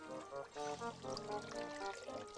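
Water pours from an opened tap in a faint, steady, splashing stream.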